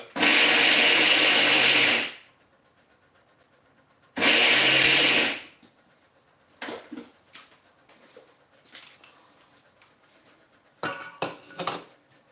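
Electric mixer grinder coarsely grinding masala vada batter, running in two loud, steady bursts of about two seconds and one second, followed by quieter clinks and knocks of the jar between pulses.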